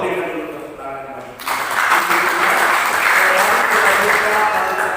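A church congregation breaks into applause during a Christian sermon service: a brief voice first, then a sudden swell of many hands clapping that holds loud and steady to the end.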